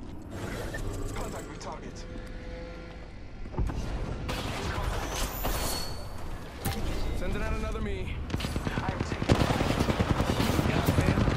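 Rapid automatic gunfire in Apex Legends, a ratcheting, mechanical rattle of shots that comes and goes over eleven seconds, growing denser toward the end, with voices talking over it.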